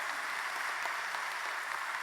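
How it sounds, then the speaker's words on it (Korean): A Presbyterian church congregation in Ulsan applauds after an infant baptism is proclaimed. The clapping is soft, even and continuous, heard from a distance throughout. "박수 보내주세요."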